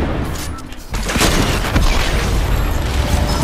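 A rocket blast in the video game Fortnite: a heavy, booming explosion lands about a second in, followed by a sustained rumbling roar and scattered crackling pops.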